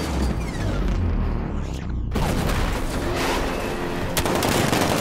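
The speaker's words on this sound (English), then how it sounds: ".60mm cannon operational." A 60mm cannon on a tank fires during a Batman: Arkham Knight game battle. Rapid gunfire and booming blasts are loud and close, with a sharp burst near the end and voices heard amid the combat.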